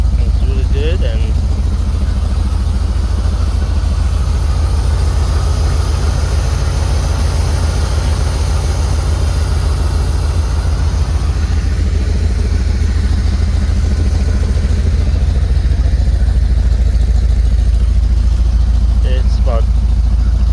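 A restored 1979 C3 Corvette engine idles steadily on a cold day, a loud continuous low rumble with a slight hiss over it, holding even throughout.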